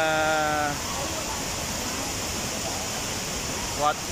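Ditumabo Mother Falls in Aurora Province roars as a steady broadband rush of falling water, loud and continuous throughout, with a short vocal sound at the start and another brief one near the end.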